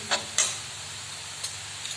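Red chili powder being stirred into fried onion and garlic for a lauki chana dal sabzi gives a soft, steady sizzling hiss, broken by a few sharp spoon scrapes against the pan.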